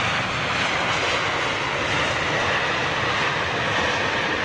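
Airliner landing at London Heathrow, probably a British Airways Boeing 777-200, a broad steady roar of jet engines and rushing air, loud and constant throughout with no voices.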